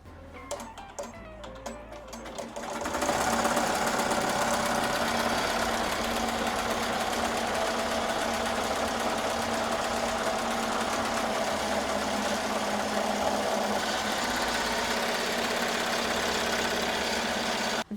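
An embroidery machine runs a bean stitch on a sequin hoodie, starting up after a few quiet seconds into a steady, loud mechanical hum and rapid needle chatter that continues without a break.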